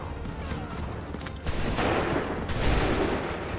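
Musket volleys crash out in an Assassin's Creed III battle, two loud massed bursts of gunfire landing about a second apart over a steady rumble of background noise.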